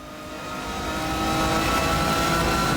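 A super touring race car engine in Race 07, set in BTCC touring car racing, revs up in a loud rising drone that builds steadily and then holds at high pitch, close and alone.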